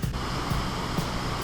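DQ Falls in St. Catharines, a cascading waterfall, gives a steady broadband rush of falling water, constant and fairly close, with no voices.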